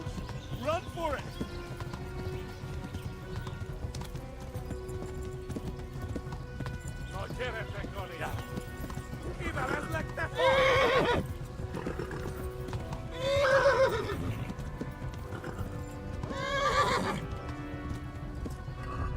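A video game horse gallops with steady clip-clop hoofbeats, breaking into several loud neighs and whinnies over the run, while a person talks intermittently.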